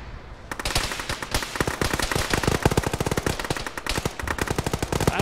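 Rapid automatic gunfire from a military shooter video game, dense bursts of loud shots rattling almost continuously after a brief quiet opening.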